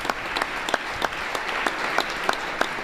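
Audience applause fills a hall for California Governor Gavin Newsom at his first State of the State address, a dense steady wash of many hands with a few sharper individual claps standing out, loud and continuous.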